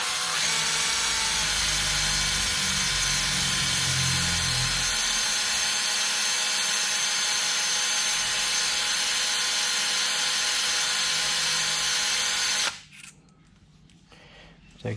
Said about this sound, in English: So any little raised burr, just got a wheel cylinder hone.